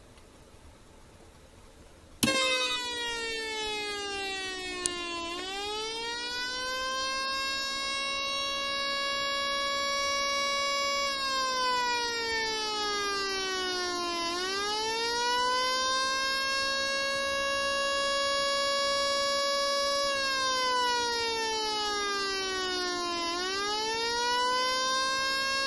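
A Brazilian siren sound effect wails in long repeating rising and falling sweeps, loud and steady for about twenty-five seconds after an abrupt start, with no voices.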